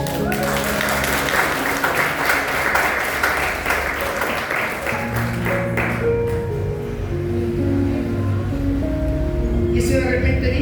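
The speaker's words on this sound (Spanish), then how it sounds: "Den un aplauso al Rey, por favor" A Pentecostal congregation claps at a Spanish-language church service, a loud sustained round of applause under a voice, then thinning as music with sustained keyboard-like tones rises and continues.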